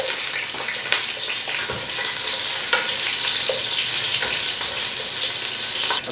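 Garlic and onion sautéing for beef caldereta, a loud continuous sizzle with intermittent stirring scrapes and clinks, close and unbroken for the whole stretch.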